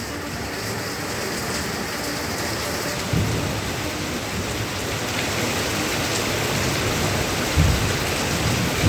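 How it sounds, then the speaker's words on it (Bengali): Heavy monsoon rain pours down in Howrah, a dense, loud, steady roar of falling water with a couple of low thumps, and no voices. "ঝমঝম করে বৃষ্টি শুরু হয়ে গিয়েছে"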